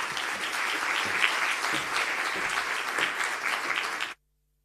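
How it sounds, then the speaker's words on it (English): An audience at a company's 30-year employee celebration event applauds as performers come on stage, with dense, steady clapping and occasional cheers that cut off abruptly near the end. "Please give them a warm round of applause as they come up."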